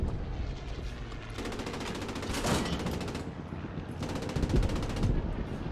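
A tank's hull-mounted machine gun firing in the video game Post Scriptum: two sustained bursts of rapid, rattling automatic fire with a loud crack between them, over low rumbling battlefield ambience.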